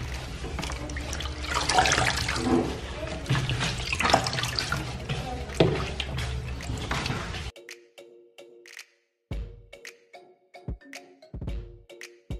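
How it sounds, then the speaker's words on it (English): Ewedu leaves rinsed under running water in a kitchen, a loud splashing gush from a tap for several seconds, then it stops and a few quieter drips and handling sounds follow. "the next thing I'm going to do is I'm going to rinse my Ewedu"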